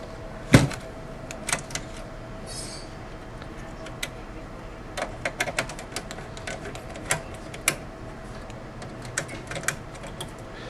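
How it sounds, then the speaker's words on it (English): Screws being taken out of the front of a computer drive cage inside a PC chassis: a sharp metallic clack, then scattered small ticks and clicks from a screwdriver and metal parts, close up and with no talking. "There will be 2 screws here in the very front."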